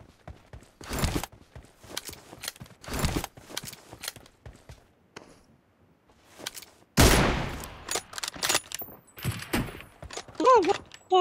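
Gunfire in the mobile battle royale PUBG Mobile, with sharp shots and rapid bursts coming in irregular clusters, one loud close volley partway through, mixed with game sounds and brief voice callouts.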